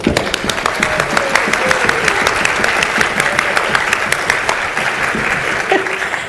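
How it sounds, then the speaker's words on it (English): Audience at a professional seminar on engaging a multigenerational workforce claps steadily and loudly for the full stretch, a dense, even wash of applause with a few voices faintly audible beneath it. "let's all just give a round of applause"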